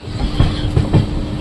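A passenger train pulls slowly out of Jetalsar railway station on a busy Mahashivratri day. Its wheels give a steady, close rumble and clatter, with a few louder rhythmic knocks over the rail joints.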